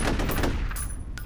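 Rapid automatic gunfire in the shooter game F.E.A.R., a loud continuous burst of closely spaced shots lasting just over a second.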